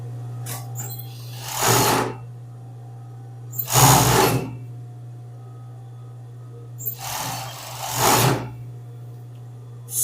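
A sewing machine stitches children's pajama fabric in three separate runs of a couple of seconds each, loud and close, with a steady low hum between the bursts.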